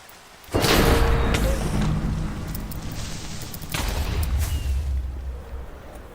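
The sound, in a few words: creeper explosions in video game Minecraft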